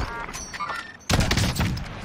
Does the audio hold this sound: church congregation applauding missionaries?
no